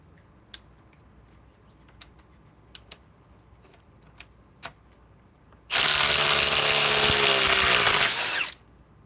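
A Ridgid power tool removing a bolt fires in one loud, close burst of about three seconds, after faint scattered clicks and taps.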